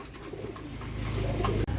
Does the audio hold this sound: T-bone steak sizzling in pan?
no